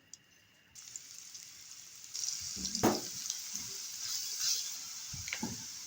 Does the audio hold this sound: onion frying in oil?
yes